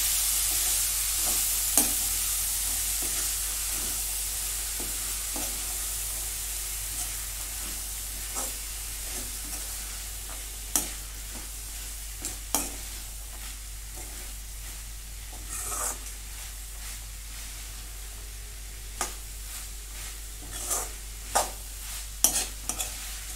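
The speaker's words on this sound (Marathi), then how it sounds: "आता हे परतून घेते." Food sautés in a pan on a home stove, a soft steady sizzle broken by occasional sharp scrapes and clinks of a stirring spoon, close and quiet with no talk.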